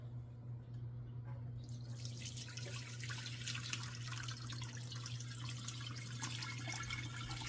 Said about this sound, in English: I'm just going to pour the grease straight into my